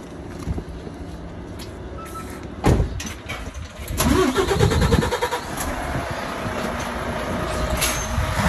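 A truck tractor unit's diesel engine revs up and pulls forward about half a metre to uncouple from its trailer on a closed heavy-vehicle test yard, a steady rumble rising midway and holding loud and close.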